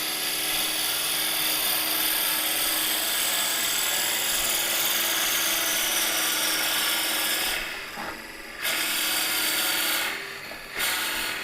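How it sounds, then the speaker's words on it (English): Drill cutting into metal on a lathe while turning a piston box, a loud steady high-pitched grinding whine with continuous scraping, broken by two brief pauses as the drill backs off. "slowly bring up the drill. Let it sit there and cut a little bit till the teeth get sort of engaged and cutting"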